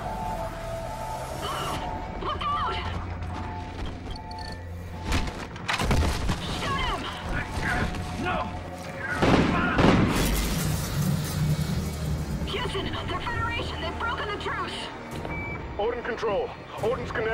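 Call of Duty Ghosts combat rumbles with bursts of gunfire and heavy explosions, booming loudest midway, under steady electronic beeping and alarm tones, with shouted game dialogue throughout.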